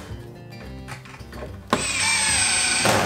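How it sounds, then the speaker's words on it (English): Pocket screws driven into a wooden back brace for a firewood shed, a quiet ratcheting buzz at first, then a loud, steady whir of the driver that runs on to the end. "I'm just going to attach these with some pocket screws."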